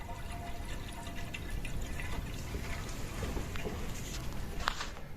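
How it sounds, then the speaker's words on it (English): Water running through old hotel plumbing in Belarus, a steady broadband rush and hiss that holds at the same level throughout, close by, with no talking. "Water's coming through."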